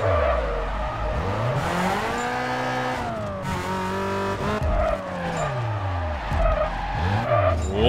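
Toyota Corolla AE86 racing on a mountain course in Need for Speed Carbon, with a continuous loud engine whine rising and falling through gear changes and repeated tire skids and squeals, no talking.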